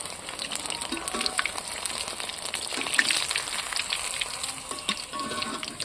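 Lote fish (Bombay duck) cutlets fry in hot oil, giving a steady, fine crackling sizzle with scattered sharper pops and spits throughout, close up and with no talking.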